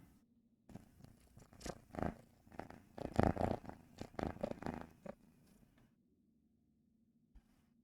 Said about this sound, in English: They're purring up a storm.